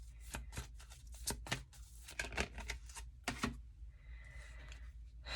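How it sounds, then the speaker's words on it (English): Tarot cards being shuffled up close, quiet bursts of crisp riffling and flapping in irregular clusters, with soft tapping and pauses between handfuls. "I'm having a hard time shuffling cards right now."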